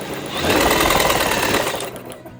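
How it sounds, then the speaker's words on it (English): The spark plug on a Snapper AWD push mower engine gives off a rapid, continuous run of snapping, ticking sparks, close and loud, swelling and then fading over about two seconds. "I hear sparks, so that's good."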